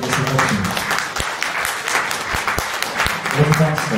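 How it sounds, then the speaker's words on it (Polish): An audience at a Robert Kubica press conference gives warm, sustained applause, a thick wash of clapping from many hands that carries on steadily, with some voices faintly heard beneath it. "Robert Kubica, wielkie brawa."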